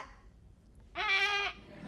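A single goat gives one short, clear bleat of about half a second, close by, with quiet surroundings before and after.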